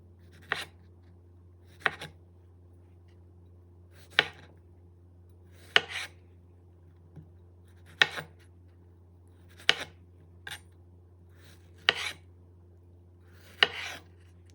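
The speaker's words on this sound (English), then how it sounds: "Most of these I'm cutting into 3 slices." A knife slices strawberries into quarter-inch pieces on a cutting board, about nine sharp distinct cuts spaced a second or two apart over a low steady hum, close and otherwise quiet.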